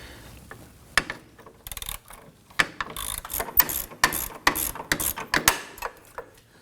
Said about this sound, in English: we're going to use our 19mm opening wrench on the inside portion to hold that while we loosen this.